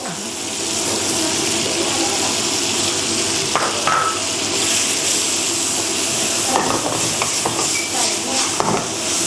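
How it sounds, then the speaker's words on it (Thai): Crispy pork stir-fried with chili and basil leaves in a pan, a loud busy sizzle with scraping and clatter of a utensil against the pan. "ผัดให้เข้ากันอีกครั้งนะครับ"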